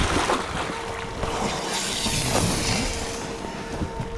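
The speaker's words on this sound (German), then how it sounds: "eine Welle kommt und ich fall ins Wasser" A person wearing waders drops into open water with waves, giving a continuous broad rush and slosh of water that stays fairly loud and unbroken throughout.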